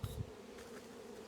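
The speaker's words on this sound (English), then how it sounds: "I have enough bees in the box." A honeybee swarm being caught into a box outdoors in the rain gives a faint, steady low buzz, with two soft thumps at the start and no talking.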